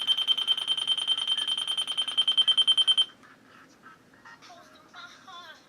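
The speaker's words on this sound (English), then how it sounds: "you can hear that beeping noise. That is from the spirit box." Spirit box in a Spirit Halloween store in Williamsburg, Virginia, giving off a rapid, regular electronic beeping for about three seconds, then cutting out to faint scattered static and chirps.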